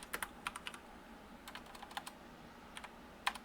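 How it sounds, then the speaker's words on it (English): Quiet, close keyboard typing comes in short irregular bursts of clicks with pauses between, and no one speaks. "As I'm typing with my right hand."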